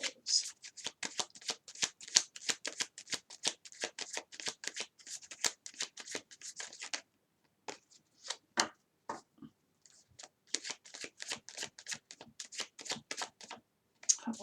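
Tarot cards being shuffled by hand in a quiet room: a long run of quick, crisp riffling flutters, a short pause with a few isolated flicks, then more steady shuffling, close and clear.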